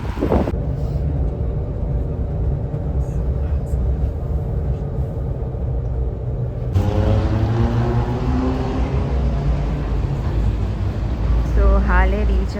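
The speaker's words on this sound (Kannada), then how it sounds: "ಓಹ್, ಬಸ್ ಬಂತು." A bus pulls up on a gusty street after light rain, its engine rumble swelling over steady wind buffeting the microphone, with a rising whine and hiss near the end.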